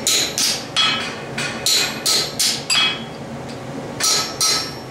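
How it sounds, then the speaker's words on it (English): Hammer striking metal that can no longer be compressed, a series of about ten loud, ringing blows in a quick uneven rhythm, each with a bright metallic clink, close and without talk. "See how that hammer jumped back at me?"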